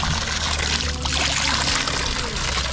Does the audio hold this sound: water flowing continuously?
yes